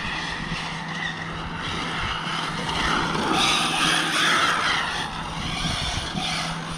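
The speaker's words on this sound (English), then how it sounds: "It's a nice handling car, the Infraction, for a truck." The Infraction, a truck in a racing video game, drives with a steady engine drone that swells in the middle and eases off again, with no talking over it.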